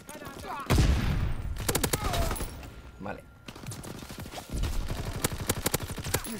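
Bursts of gunfire in a WW2 shooter video game, rapid volleys of shots cracking loud and close, with several dense rattling stretches and short pauses between them.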